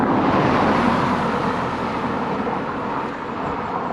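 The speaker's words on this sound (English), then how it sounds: "you can hear the traffic behind me" Steady roadway traffic rumbling continuously behind a walker on a road section of the Camino del Norte in Spain, broad and fairly loud, easing slightly toward the end with no speech.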